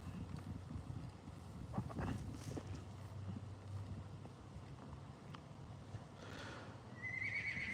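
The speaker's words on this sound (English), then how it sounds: "She's calling out to Joda, wants him to go back." A horse on a cold late-winter day whinnies and calls out repeatedly, moderately distant over wind and outdoor ambience, with a few hoof-like knocks; no talking.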